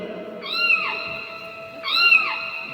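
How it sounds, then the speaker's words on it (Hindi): Two plaintive cat meows, evenly spaced and fairly loud, nearby in a quiet room. "बिल्ली रो रही है।"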